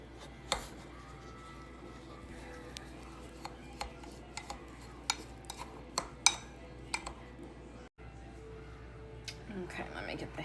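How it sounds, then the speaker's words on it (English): A long gold spoon clinks and scrapes against a container while stirring vanilla sugar body scrub, with a dozen or so sharp taps scattered irregularly over a quiet background. "And you just mix it, blend it in really well."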